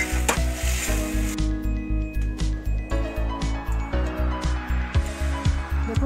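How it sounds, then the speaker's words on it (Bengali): Water splashes into a hot pan and sizzles steadily while a utensil stirs and scrapes in a quick, regular rhythm, close and fairly loud. "এবার সামান্য একটু জল দিয়ে দিলাম।"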